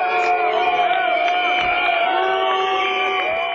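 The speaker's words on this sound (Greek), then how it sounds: "Την έντονη αποδοκιμασία των αγανακτισμένων της Καλαμάτας δέχτηκε ο Αντιπεριφερειάρχης Μεσσηνίας" A large crowd of indignant protesters in Kalamata boos and jeers the deputy regional governor of Messinia, a dense, continuous roar of voices with shouts and whistles rising throughout.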